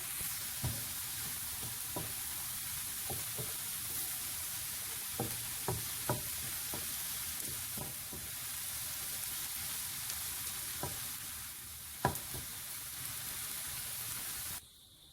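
Chicken kofta mince with onion is stirred and mixed by hand, close up. Irregular soft knocks and squelchy scrapes come through a steady background hiss, and a sharper knock lands near the end.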